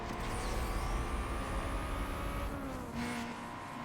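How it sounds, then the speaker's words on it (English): Several racing car engines in NFS Most Wanted Redux drone and rev steadily at high pitch, loud and continuous, with a shifting whine as the cars speed along and no talking. "God, I love the sound of these engines."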